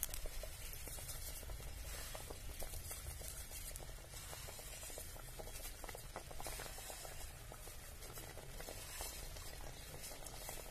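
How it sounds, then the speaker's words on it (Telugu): Water coming to a rolling boil in a pot on a village stove, ready for fried vermicelli in a semiya egg biryani; a steady dense bubbling and hiss runs throughout, fairly close and even, with no talk. "నీళ్ళు ఈ విధంగా మరగనిచ్చినాక ఇప్పుడు మనం వేయించుకున్న సేమియా వేస్తాము"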